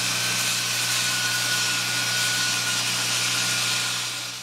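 Steady broadband hiss of a power sander working a walnut box, running continuously at fairly close range with a faint tonal whine, alone without talk.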